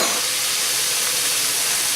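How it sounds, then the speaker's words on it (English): Beef brisket browning in a pan, a steady, loud, broad sizzling hiss that holds unchanged throughout with no talk. "So we just brown it a little bit on the bottom, brown it on the other side"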